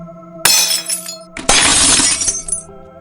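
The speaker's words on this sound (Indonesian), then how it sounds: "Suara barang pecah terdengar memekakkan telinga." Items from a dressing table breaking: two loud, close crashes of shattering glass about a second apart, each trailing into tinkling shards over a faint steady hum.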